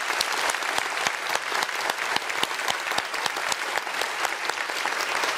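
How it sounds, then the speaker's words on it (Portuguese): Studio audience on a Brazilian music TV show applauds Edgar, a Brazilian folk artisan, with sustained, energetic clapping from many hands, crisp individual claps standing out in a steady, lively rhythm. "Pode levantar, eu quero aplaudir você,"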